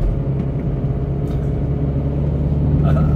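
Steady low road rumble of a car's engine and tyres while driving on the road toward home, a constant close hum filling the whole stretch without pauses or sharp changes.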